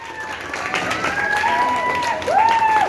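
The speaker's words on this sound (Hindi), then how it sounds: "जोरदार तालियां" An audience claps for a medal presentation at a children's dance academy program on 15 August 2021, a continuous wash of applause lasting about three seconds, with voices and tonal sounds mixed in.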